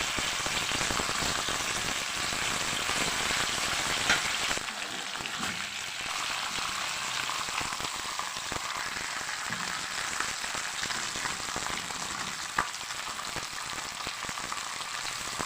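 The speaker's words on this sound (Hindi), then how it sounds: "तेल हमारा थोड़ा सा गर्म हो गया है, अब इसमें हम डाल देते हैं। इसको थोड़ा सा फ्राई होने देते हैं।" Fish sizzles steadily in hot oil in a pan, a dense, close, rain-like crackle that runs on evenly with only slight shifts in intensity and no one speaking.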